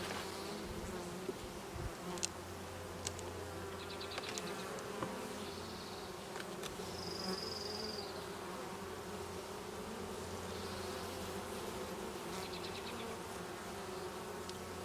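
Dense, continuous buzzing of many Saskatraz honey bees up close in a hive, with occasional louder individual bees flying past.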